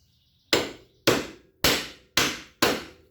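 Five sharp, evenly spaced metallic whacks of a hammer on a bent pry bar, driving out a rusted Polaris Sportsman rear axle, each strike close and loud with a quick ringing decay and no talking.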